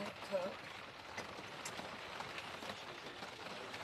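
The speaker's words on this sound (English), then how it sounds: "it's pouring down with rain." Steady rain patters on a surface, a soft continuous hiss with occasional heavier drops, fairly quiet and close.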